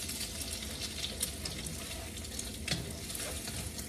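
Beaten eggs scramble and fry in a hot pan for kimchi fried rice, giving a steady close sizzle with occasional scraping stirs and no talking.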